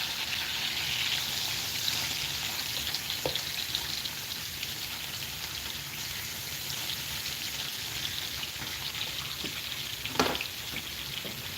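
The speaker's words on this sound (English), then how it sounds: "The sizzling sound of bacon." Bacon strips sizzle steadily in a frying pan, a dense crackling hiss that runs throughout with scattered pops, fairly close and at an even level, with no talking.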